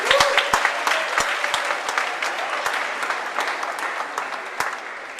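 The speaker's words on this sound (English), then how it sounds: "Let's give them a round of applause." Audience applause for faculty members at a new student welcome event, a steady wash of many hands clapping that holds for the whole stretch with a few sharper claps standing out up close.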